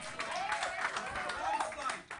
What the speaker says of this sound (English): A round of applause for her to winning the event.